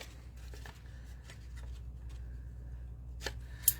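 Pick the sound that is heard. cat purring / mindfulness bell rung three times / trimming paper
trimming paper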